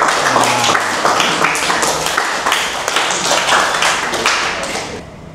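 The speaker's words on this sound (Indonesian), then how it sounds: "Oke, tepuk tangan dulu buat kita semua." A group in a classroom or training session claps together for several seconds, a dense patter of hand claps that tapers off near the end. The sound is close and fairly loud, with no talk.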